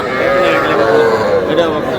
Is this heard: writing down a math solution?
no